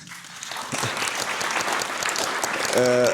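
A small audience applauds after a stone-age-style flute is presented at an evening cultural event, with dense clapping that builds toward the end, mixed with a little talk and a brief tonal note near the close.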